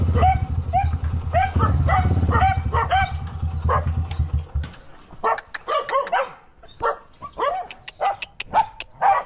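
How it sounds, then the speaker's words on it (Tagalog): A dog at a house near a fish pond barks repeatedly in sharp, uneven bursts, fairly close, with some yips mixed in after a low rumbling background fades. "May aso eh."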